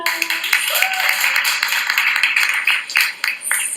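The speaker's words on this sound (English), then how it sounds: "So let's give it a round of applause." An audience claps at a podcast festival panel on inclusivity, a steady wash of applause with a few sharper individual claps standing out and faint voices mixed in.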